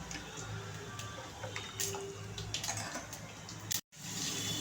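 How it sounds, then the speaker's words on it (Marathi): Water swirled in a mixer jar is poured into a pot of tomato amti, a gentle, steady trickle and splash with faint clinks, briefly cut to silence near the end. "इथे मिक्सर विसळलेलं पाणी पण ॲड करते"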